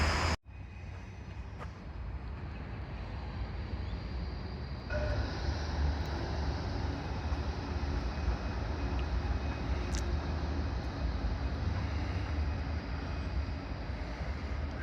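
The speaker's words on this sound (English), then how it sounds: "There's the tram there." A steady low rumble of a tram rolling through a Melbourne street near Fitzroy Gardens, continuous and fairly close, with broad traffic-like noise throughout and no talking.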